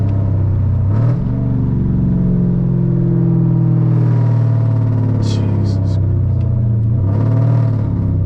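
Dodge Challenger R/T with a very loud exhaust cruising at night, its deep engine droning steadily and swelling into revs near the start and end, heard from inside the car, with a single brief exclamation from a man.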